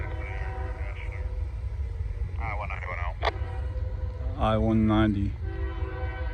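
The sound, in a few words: Union Pacific train passing with horn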